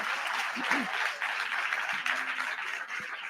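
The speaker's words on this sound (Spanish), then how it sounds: "primero un gran aplauso emocional" A conference audience applauds warmly at the close of a talk on emotions, the clapping a steady dense wash for a few seconds with a few brief voices breaking through.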